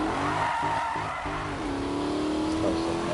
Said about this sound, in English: Spontaneous drift.